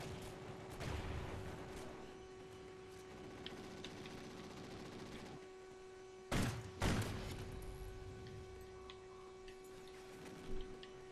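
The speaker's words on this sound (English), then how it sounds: "that's a grenade launcher" A grenade launcher fires in Call of Duty: Ghosts during a gun game match, two sharp, loud broadband blasts close together near the middle over a low steady hum and faint game ambience.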